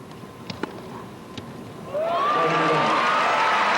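A tennis crowd bursts into applause after Steffi Graf wins a love game at the 1998 year-ending championships. Applause rises suddenly midway and holds steady, with a voice talking over it.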